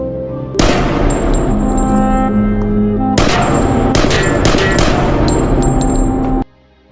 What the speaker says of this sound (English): making Ja-sung grab a gun and shoot her